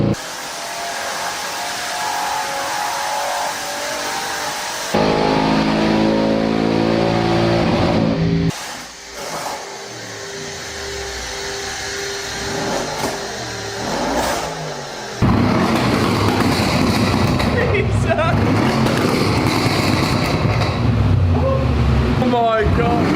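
A tuned Audi RS6 roars loudly on a dyno, its engine climbing through hard revving pulls in long sustained bursts, while people talk excitedly over and between the runs.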